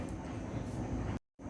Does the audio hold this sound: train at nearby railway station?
yes